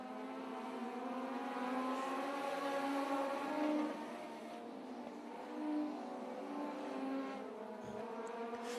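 Race cars circle at 141 Speedway, a dirt oval, their engines droning and revving steadily from mid-distance, blending into a continuous roar with slight swells as cars pass.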